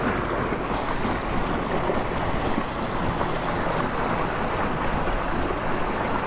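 A small fishing boat runs across a lake under an ePropulsion Spirit 1.0 Evo electric outboard motor, heard as a constant loud rush of water and wind buffeting the microphone, with no talking.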